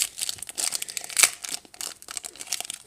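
A Pokemon Plasma Blast booster pack's foil wrapper is torn and crumpled open, giving close, steady crinkling and crackling with a sharper rip about midway through.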